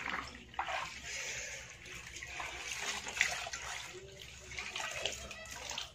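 Laundry washed by hand in cold water, with steady sloshing, splashing and dripping close by, the water churning in uneven bursts throughout.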